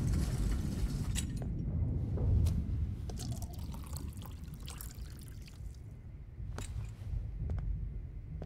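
Water is poured in the video game Life is Strange, a soft continuous liquid fill with trickling and a few sharp drips and clinks, fairly quiet and alone.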